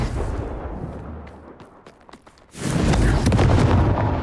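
A Confringo fire blast spell in Hogwarts Legacy lands with a sudden booming burst that swells into a loud, sustained roar after a quieter stretch of scattered crackles.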